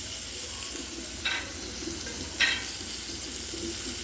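Mutton liver fry with garam masala cooking in a pan, a soft steady sizzle close by with two brief scraping stirs of a spoon.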